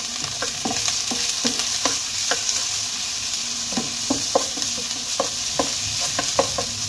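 Crushed garlic stirred into browned onions frying in a pan, giving a steady close sizzle broken by a dozen or so quick scraping spoon strokes.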